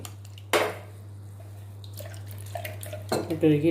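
Milk splashes and swishes inside a mixer-grinder jar being rinsed, with clinks of the jar, starting abruptly and returning near the end over a steady low hum.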